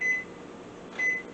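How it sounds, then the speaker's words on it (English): A kitchen oven timer being set while baking Irish soda bread, giving two clear electronic beeps about a second apart over a low room hum. "So we're going to set a timer on the oven."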